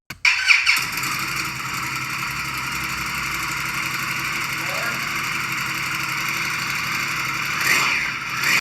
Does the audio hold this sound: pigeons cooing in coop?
no